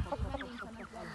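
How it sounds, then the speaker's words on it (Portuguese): A chicken clucks in a short, busy stretch of farmyard sound, with a few brief calls close by and some background noise and voices. "Galinha."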